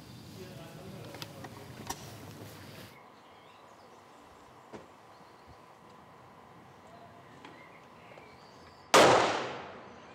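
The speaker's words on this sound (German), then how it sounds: "Bei ihnen knallen maximal die Auspuffrohre ihrer alten Maschinen." A vintage motorcycle exhaust backfires on an old-timer ride through the Rosental near Ferlach, giving one sharp, loud bang near the end after a stretch of quiet engine and road noise.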